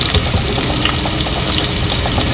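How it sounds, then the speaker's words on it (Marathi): Vertically sliced onion goes into hot oil with cumin and fries in a loud, dense, continuous sizzle, close up and without any voices. "थोडा कांदा घालायचा उभा चिरून घालायचा"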